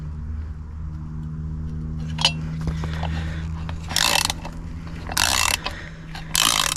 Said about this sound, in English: So I'm just locking two nuts together.